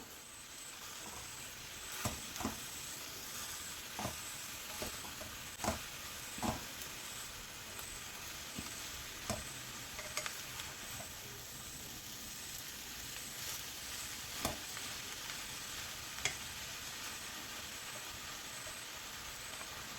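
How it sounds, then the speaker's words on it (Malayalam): Kerala leaf thoran cooks uncovered in a pan with a faint, steady sizzle and hiss, broken by periodic sharp scrapes and taps of stirring. Quiet and close, with no talking. "ഇലത്തോരൻ മൂടാതെയാണ് ഉണ്ടാക്കേണ്ടത്. അത് അവിടെ നിന്ന് വെന്ത് വരട്ടെ. ഇതിടയ്ക്കിടെ ഒന്ന് ഇളക്കി കൊടുക്കണം."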